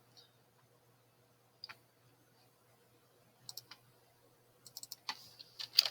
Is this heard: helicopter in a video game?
no